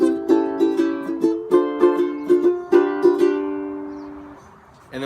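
An acoustic guitar strums chords in an even quarter-note pulse, ringing clearly through several changes before letting the last chord decay.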